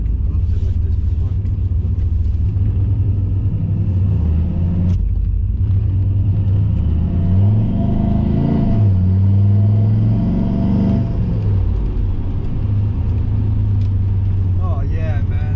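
Turbocharged Chevrolet Silverado pickup with a new muffler driving on a wet road, a loud close engine drone rising and falling through gear changes, with a deep exhaust rumble and some background noise.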